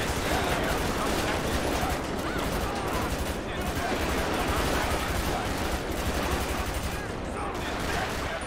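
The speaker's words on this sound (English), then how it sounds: "There's one shooting." Continuous gunfire and chaotic action in GTA 5 with a police mod, rendered as a dense, loud, unbroken wash of rapid shots and noise throughout, with voices talking underneath.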